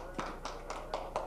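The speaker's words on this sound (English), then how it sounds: "Hey, they're clapping for you" Scattered applause in a classroom: a few faint, separate claps that come in a loose rhythm over a short moment, heard from a little distance and fairly quiet.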